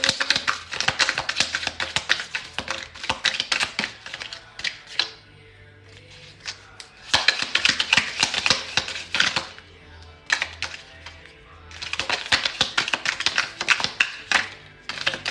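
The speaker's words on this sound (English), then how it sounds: "So we're going to shuffle this one last time." Tarot cards being shuffled in bursts of rapid, crisp riffling and flicking, three busy runs separated by short quieter pauses, close and fairly soft.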